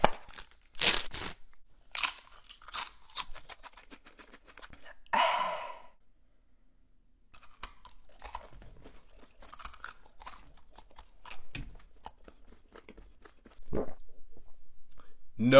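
Doritos and Takis crisps, among other spicy snacks, are crunched and chewed close to the mic in sharp bursts of bites separated by quiet pauses, with whispered talk and sighs in between.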